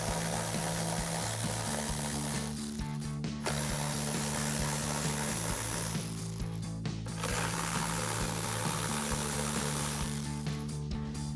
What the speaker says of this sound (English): we can get these 3 screws off using our 10mm socket